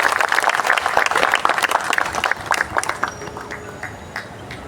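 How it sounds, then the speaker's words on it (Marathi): An audience at a celebration of Dr. Babasaheb Ambedkar's 135th birth anniversary bursts into dense, vigorous clapping that gradually thins and fades over a few seconds. "एकदा जोरदार टाळ्या वाजवून आपण अभिनंदन करूया"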